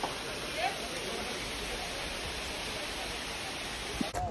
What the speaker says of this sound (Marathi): धबधबा बघा किती आहे